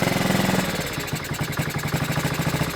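A Honda CT70 fitted with an 88cc big-bore engine runs with a slipping clutch, giving a loud, close, continuous rapid chugging whose pitch shifts partway through.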